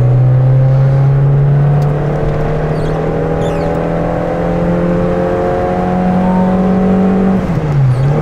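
A Peugeot 205 set up in rally mode drives along with a steady, loud engine drone that rises and falls slightly with speed, sounding close and continuous.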